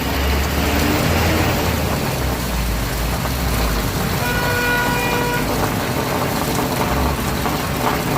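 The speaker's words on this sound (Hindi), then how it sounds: "ये देखिए बरसात हो रही है इधर" Rain falling at Kainchi Dham in Uttarakhand, a steady broadband wash of downpour with traffic-like rumble and a faint horn beneath, continuous and fairly loud throughout with no talking.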